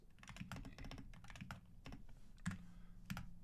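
Steady typing on a 60% computer keyboard during a programming session, with rapid clustered keystrokes and a few heavier key presses, close and fairly quiet, with no talking.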